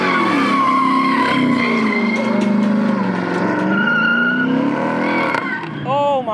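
An Infiniti G35 two-steps at a car meet, a loud sustained engine drone with popping and crackling, held steady for several seconds close by, with faint crowd voices in the background.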